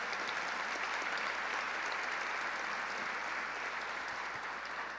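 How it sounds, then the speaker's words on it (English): Steady, dense applause from a luncheon audience of business people in New York, filling the room evenly at a sustained level without a break. "Let's give Bill Rudin a round of applause for his service."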